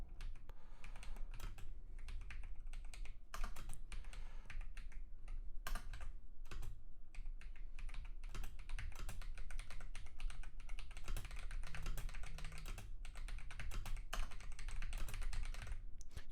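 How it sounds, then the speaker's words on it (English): Steady, fast typing on a computer keyboard, a dense run of close key clicks and taps continuing without pause, with faint background music underneath. "I immediately get faster as soon as I start typing actual real words"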